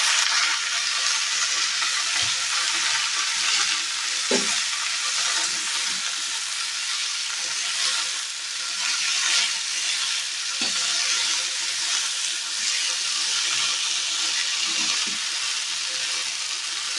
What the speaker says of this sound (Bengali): জল ঝরানো শাকগুলো আমি এবার দিয়ে দিলাম।